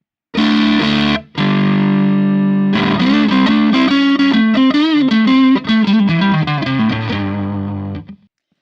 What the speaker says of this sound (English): So these are my normal overdrive settings now.